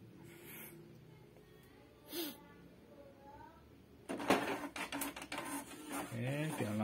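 Canon MP198 inkjet printer starting a print job, a whirring, clicking feed mechanism that grows louder partway through, close by, with talk and breathing sounds around it.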